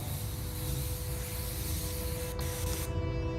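A spray can hisses in a steady, continuous spray for a few seconds in the video game The Raven: Legacy of a Master Thief, close and fairly loud with no talk.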